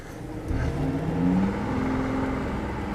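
A BMW i8 hybrid sports car driving away with its doors raised, a close engine whir rising in pitch as it accelerates, then holding steady; no talk.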